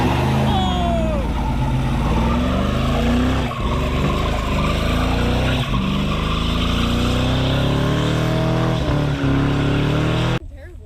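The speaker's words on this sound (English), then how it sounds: "you can see there's a one-wheel burnout thing going on" A car with dry rotted tires does a one-wheel burnout, its engine roaring loud and steady at high revs for about ten seconds with shifting pitch, then cutting off abruptly near the end.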